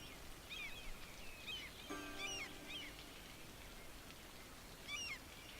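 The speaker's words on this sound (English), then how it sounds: "Wow, and it's raining." Faint, steady rain hisses in the city-building game Cities: Skylines, with a few soft bird chirps scattered over the even wash of falling water.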